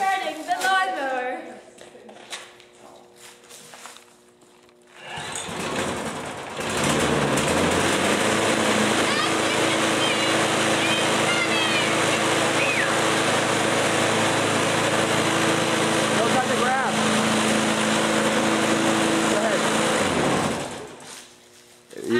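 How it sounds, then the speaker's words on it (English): A lawn mower engine running on ethanol sputters to life after brief voices, then roars loudly and steadily at close range for about fifteen seconds before cutting off. "And my assistant, Katie, will be starting the lawnmower."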